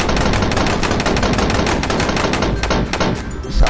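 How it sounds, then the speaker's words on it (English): Rapid automatic gunfire from an AK-style rifle in a video game, a loud dense burst of shots rattling continuously for nearly four seconds with no talking. "Whoa, oh my god, it's the Obama gun, aka the AK Obama."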